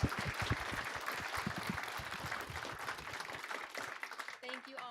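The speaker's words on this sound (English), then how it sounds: "Give them a round of applause." An audience claps for panelists after a career-talk session, a moderate wash of applause with a voice speaking over it that fades out near the end.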